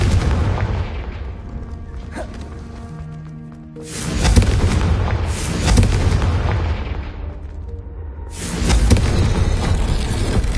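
Confringo fire blast spells detonating in a Harry Potter video game: loud, booming explosive bursts, one around the middle and another near the end, each trailing off into a rumbling decay amid game ambience, with no voices.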